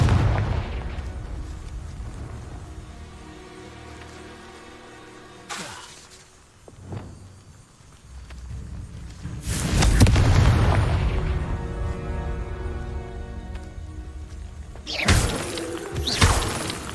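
Blasting curse explosions in a Hogwarts Legacy game battle, several heavy booms with shattering debris, one near the middle and another burst toward the end, over a low background rumble.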